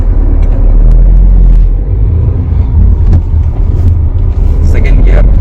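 A Tata Altroz car pulls away in first gear, its engine drone rumbling steadily inside the cabin beneath someone talking.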